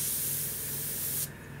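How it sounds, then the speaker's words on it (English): A Gaahleri Ace airbrush sprays paint in a steady, close hiss that cuts off abruptly, leaving a faint background. "It's a good enough airbrush for spraying like this."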